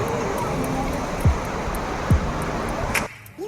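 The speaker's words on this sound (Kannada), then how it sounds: "ಈಗ ನಾವು ಬಂದಿರೋದು ತಮಿಳುನಾಡಿನ ಪ್ರಸಿದ್ಧ ವಾಟರ್ ಫಾಲ್ಸ್ ಪರಂದಪಲ್ಲಿಗೆ" The steady broadband rush of Perandapalli waterfall in Tamil Nadu fills the scene at a constant level, with a couple of brief thumps and faint tones over it before it drops away abruptly near the end.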